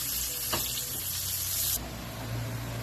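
Crispy tuna frying in a pan, a steady loud sizzle with bright hiss that drops in intensity partway through, alone without talk.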